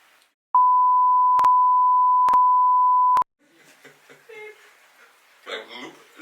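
A one-minute timer sounds a loud steady electronic tone broken by three sharp clicks, then cuts off, leaving quiet chatter and a chuckle from people nearby.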